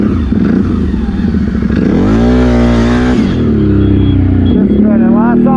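A CFMOTO CForce 800 ATV engine revs loud and close, its pitch climbing and falling in sweeping surges as the wheels spin, with people talking over the roar.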